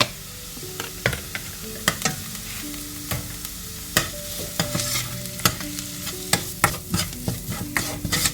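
Chili and coriander paste, mixed with water, frying on a low flame for a Malabar fish curry, with repeated sharp spoon scrapes and taps against the pan over a soft, steady sizzle, close and alone.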